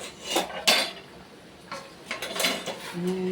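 A kilo of salted spaghetti is stirred in a cooking pot, the utensil scraping and clanking against the metal in uneven bursts, close and fairly loud.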